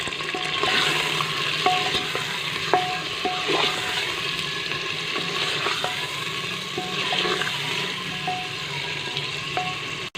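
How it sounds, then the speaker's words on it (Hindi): Pieces of meat fry for arvi gosht, a taro root curry, sizzling steadily in a pan, with periodic spoon scrapes and clinks against the metal, close and continuous, with no voices. "हम 5 से 10 मिनट के लिए अच्छी तरह फ्राई करेंगे कि गोश्त का जो रंग है वो चेंज हो जाए"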